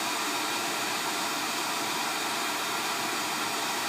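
Hot air blower running steadily on a circuit board while a phone charger port is swapped, a constant loud broadband hiss and whoosh lasting the whole stretch with no talk.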